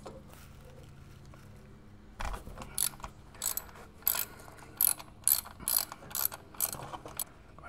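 Socket ratchet loosening a drain plug on a touring motorcycle during an oil, transmission and primary change: a quiet start, then a string of sharp, close ratcheting clicks in irregular bursts, with no voices.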